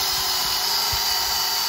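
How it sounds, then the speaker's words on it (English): A wire brush spun in a power drill scrubbing out a Mazda RX8 front wheel bearing housing, a continuous high whirring grind held steady throughout, loud and close with no talk. "Just put it in a drill."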